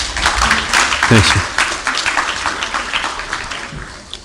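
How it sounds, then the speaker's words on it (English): A university class claps for classmates during a course introduction lecture: a short burst of many hands clapping, fairly close and loud, mixed with a few spoken words and room chatter. "You could clap for them."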